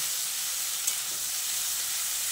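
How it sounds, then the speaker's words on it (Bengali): Tomatoes and potatoes sautéing in a pan give a steady, close frying sizzle with a soft stir partway through, no voices. "টমেটোটা দিয়ে আলুর সঙ্গে কষিয়ে নিতে হবে।"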